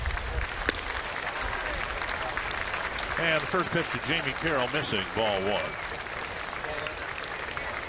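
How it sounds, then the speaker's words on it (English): A baseball stadium crowd applauds a fan hit by a foul ball during a Tampa Bay at Minnesota game, a continuous distant bed of clapping under a male announcer's play-by-play. "The round of applause you're hearing is for the fan who was hit by the foul ball"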